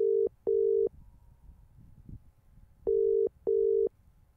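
A WhatsApp call rings out on a phone, heard as two pairs of steady electronic double tones separated by a quiet gap, clear and fairly loud, with no voices.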